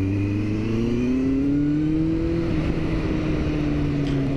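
A Kawasaki Z800 motorcycle engine pulls steadily under acceleration, its rising harmonic drone loud and close with wind rush throughout and no talking.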